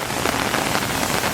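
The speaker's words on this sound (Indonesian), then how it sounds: "hujan Pak." Heavy rain pours steadily onto a flooded road in Malang, a dense, loud, continuous hiss of drops striking water with no pauses and no voices.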